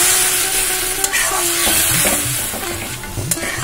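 Ghugni spice mix cooking in a pan after water is poured in, with steady loud sizzling and bubbling and a few scraping stirs throughout, close by and with no voices.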